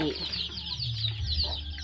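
Chickens cluck on a small farm where a flock of about seventy birds is kept for meat and eggs, with repeated soft calls close by and a steady low background hum.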